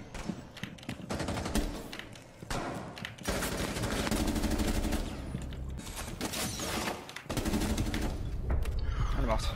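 Rapid gunfire in Rainbow Six Siege, sustained bursts of shots loud and close, mixed with game noise and voices talking over it.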